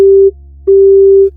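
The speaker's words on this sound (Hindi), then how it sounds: "उससे पहले फोन कट गया।" A phone line gives a loud, clean, steady electronic beep tone after a call is cut, sounding as two pulses, one short and then one longer, with a pause between them.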